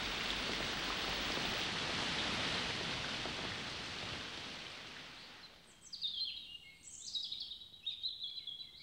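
Steady rain hisses over an evergreen forest on Jeju Island, dense and even at first, then it fades as faint bird calls come through in the distance.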